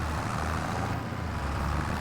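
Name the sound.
small tractor engine idling, from the video game Farming Simulator 25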